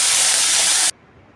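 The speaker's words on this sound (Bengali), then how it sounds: "একটু হলুদ আর নুন দিয়ে মাছটাকে ভেজে নেব।" Fish coated in turmeric and salt frying in hot oil, giving a loud, steady, bright sizzling hiss that cuts off suddenly after about a second.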